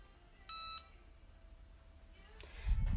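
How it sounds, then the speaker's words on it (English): A countdown timer gives one short, clear electronic beep. It sounds quietly in a mostly still room, and a low thump follows near the end. "So you'll hear it beep here in a second."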